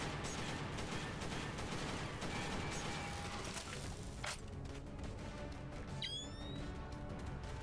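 Security camera gun turret firing in the Secret Service video game, a continuous rattle of automatic gunfire with crashing impacts throughout, ending in a sharp ricochet-like whine.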